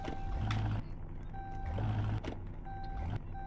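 Repeated electronic beeping from a truck that fails to start, a steady tone chiming on and off in several spaced bursts over a low rumbling, fairly close by.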